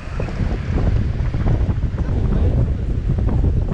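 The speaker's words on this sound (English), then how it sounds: "Yeah, it's the waves for the most part." Ocean waves wash and churn steadily near a boat out on open water, heavy wind buffeting the microphone with a constant low rumble throughout.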